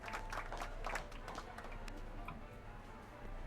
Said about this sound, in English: How about a round of applause just for the heck of it?